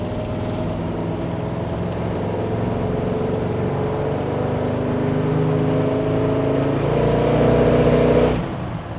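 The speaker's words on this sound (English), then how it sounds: "Just a quick revving, nasty little small block" A 1970 Chevrolet K10 truck with a 383ci stroker small-block V8 runs with a loud, steady rumble that builds toward the end, then drops off sharply.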